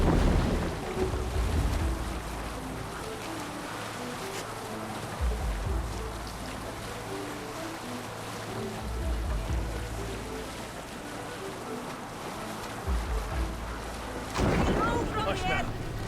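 A Viking longship under sail in Assassin's Creed Valhalla rolls over the waves with steady wind and rushing water, and brief voices call out now and then across the crossing.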